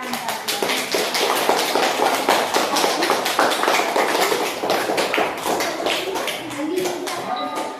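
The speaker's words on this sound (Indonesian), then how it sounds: "Kita kasih aplaus." Classroom applause rises as a dense, steady patter of many hands clapping together, sustained for several seconds before tapering, with voices mixed in.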